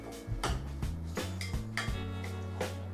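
A spoon stirring tomatoes and cauliflower in a microwave-safe dish, soft repeated clinks and scrapes against the bowl at an even rhythm over a steady low hum, no talking.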